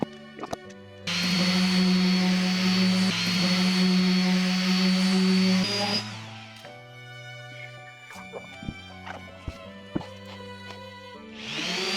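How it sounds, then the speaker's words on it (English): A power sander works over a woodworking project, a loud, steady motorized whine running about five seconds before winding down, then quieter bursts and knocks as the sanding continues, followed by the motor starting up again at the end. "let's get to sanding."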